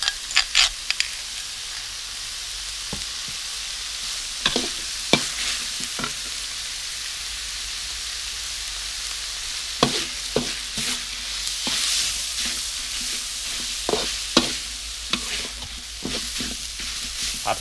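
Minced pork stir-fried with Thai curry paste, fresh chilies and garlic in a pan, a steady close sizzle punctuated by frequent sharp scrapes and clacks of the spatula against the metal.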